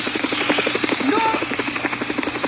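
A helicopter in the Roblox video game gives off a steady, close rotor chop with even rhythmic pulses and a faint buzzing hum throughout.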